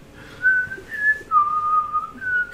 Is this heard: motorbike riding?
no